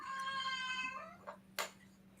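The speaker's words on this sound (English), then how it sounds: "Yeah, that's my cat. That's my cat. She's extremely loud." A loud domestic cat meows once, a drawn-out harmonic cry close by, followed by a couple of brief softer sounds, over a steady low electrical hum.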